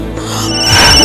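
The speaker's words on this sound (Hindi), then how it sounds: "मम्मी तुम्हारे फोन वागे छे" A mobile phone rings at home, a steady electronic ringtone with a bright repeating melodic tone building slightly in loudness, heard alone with no talking.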